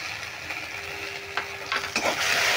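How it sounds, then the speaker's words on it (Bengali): Moong dal kachori filling frying in a pan with chili, ginger, cumin powder, coriander powder and a little sugar: a steady soft sizzle with a few light stirring scrapes and clinks near the end. "এবার আমি সময়টা মেরে ভেজে নেব।"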